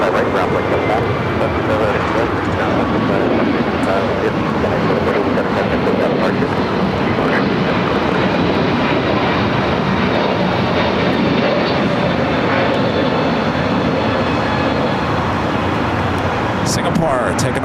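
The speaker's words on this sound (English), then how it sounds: "United A321 Neo taking off." A United Airbus A321neo jet taking off at LAX, a loud, steady broadband engine roar that holds for the whole stretch, with talk over it.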